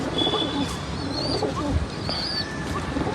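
Pigeons coo softly at a distance, with a few scattered chirps and thin whistling calls over a quiet, even background.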